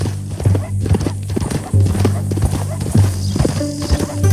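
Horse hooves clip-clop steadily and close by in Red Dead Redemption 2, a rhythmic trotting beat that runs the whole time under occasional talk.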